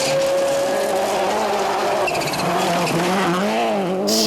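Subaru rally cars at WRC Rally Finland 2000 race by on a gravel stage. High engine notes rise and fall loudly, with tire skids and shifting pitch as the cars sweep through, and no voices.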